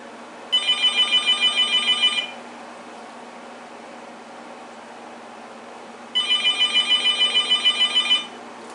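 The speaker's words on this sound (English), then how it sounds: "let's go ahead and try clatter again without the ringtone" The "clatter" ringtone from a Uniden EXAI978i cordless phone sounds twice, each burst a rapid buzzy electronic trill lasting about two seconds, separated by a pause of quiet room hiss.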